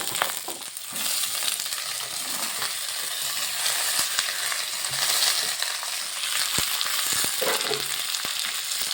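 Winter vegetables and potato fry in a pot for a bhog khichdi, a constant loud sizzle with scattered crackles and the odd clink of a utensil, close up and without talk.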